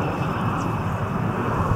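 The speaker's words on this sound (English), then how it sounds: "Enjoy the United Airlines Boeing 767-400 departure off of 338." A United Airlines Boeing 767-400ER takes off from runway 33L at Toronto Pearson, a steady distant jet engine roar held evenly across the short stretch with no talk.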